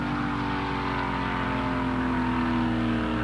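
Drag racing cars at the 1976 NHRA Gatornationals launch off the line together, a steady, loud, dense engine roar with sustained tonal whine filling the whole span, and no voices over it.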